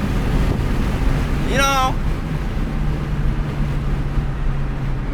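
A BMW engine with an open intake runs with a steady low rumble and wind-like airflow, and a short rising turbo-like whistle sweeps up midway while someone talks over it.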